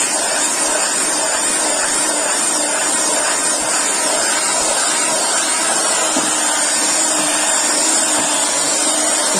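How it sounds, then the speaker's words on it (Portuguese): Electric hand mixer beating homemade powder soap made from used cooking oil, a loud continuous motor whine and whir that holds steady throughout, close and alone. "Puxa aí o barulhinho da batedeira um pouco"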